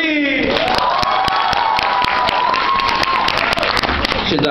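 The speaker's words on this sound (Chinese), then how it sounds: "大家掌声鼓励。" An audience applauds at a mock inauguration ceremony, with dense steady clapping throughout and a voice speaking over the top.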